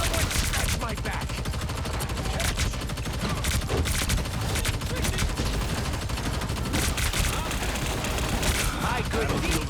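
Dense video game gunfire, rapid bursts and single shots cracking continuously over a loud, busy battle din, with voices talking in the mix.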